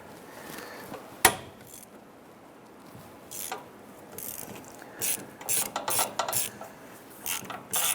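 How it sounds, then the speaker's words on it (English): A ratchet on an extension loosens the 13 mm steering shaft coupler bolt on a 2005-2010 Chrysler 300, giving close bursts of quick clicking pawl strokes separated by pauses, with no talking. "We're going to go ahead and use our extension and our ratchet. I'm going to go ahead and loosen this here."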